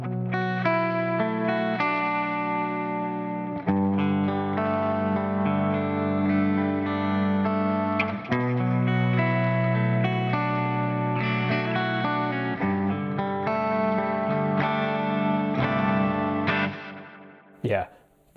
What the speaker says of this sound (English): this is kind of the star of this preset. It's the Cosmos Echo.